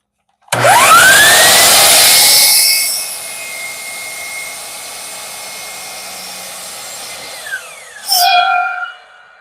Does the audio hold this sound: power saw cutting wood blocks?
yes